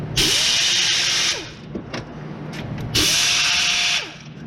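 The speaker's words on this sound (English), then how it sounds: "I'm going to undo the top bolts of the valve covers real quick." Power tool undoing the top valve cover bolts on a Subaru engine during head gasket disassembly: two close, loud bursts of whirring, each about a second long, separated by a short pause with faint clicks.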